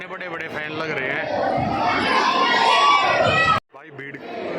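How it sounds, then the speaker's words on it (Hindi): Crowds of devotees fill Khatu Shyam temple, a loud close mass of overlapping voices and shouts that swells and then cuts out for a moment before resuming. "भीड़ है पर कम है"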